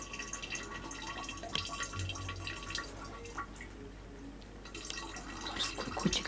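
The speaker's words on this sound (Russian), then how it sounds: "Водичка капает." Water dripping in faint, scattered drops over a constant background hiss, quiet and somewhat distant, with no voices.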